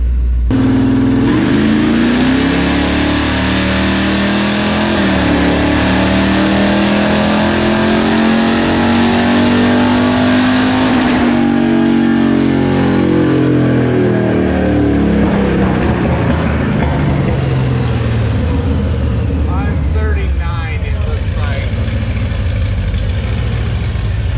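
A Dodge Demon engine revs loudly and continuously, its pitch rising and falling through repeated throttle pulls before dropping back toward idle.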